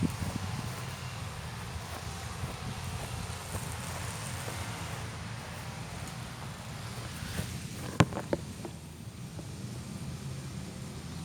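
Wind blows steadily across an open outdoor disc golf course, a continuous broadband rush buffeting the microphone with rustling, and a few brief knocks near the end.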